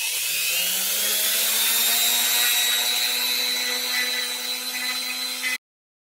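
Polymer clay earring pieces are sanded with a power tool, making a steady, close, whining grind with a rising pitch that runs continuously for about five seconds before cutting off abruptly.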